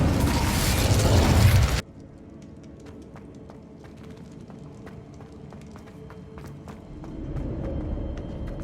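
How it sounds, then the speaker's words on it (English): A loud, rushing roar of the Incendio fire spell in Hogwarts Legacy bursts for under two seconds, then cuts off abruptly, leaving faint clicks and a low ambient hum. "Incendio."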